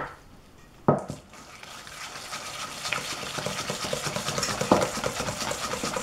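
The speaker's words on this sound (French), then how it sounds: "J'ajoute le jaune d'œuf et je mélange à nouveau." Egg yolk being mixed into biscuit dough in a bowl: a sharp clink, then steady scraping and stirring strokes that grow busier, with another clink near the end.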